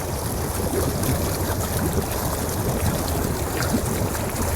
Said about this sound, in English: All the bubbles are working.